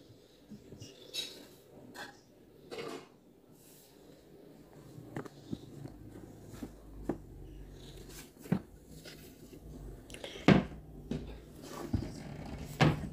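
Wardrobe doors and compartments are handled, with a series of wooden knocks, creaks and sharp clacks spread irregularly over several seconds, close and moderately loud, with no talk.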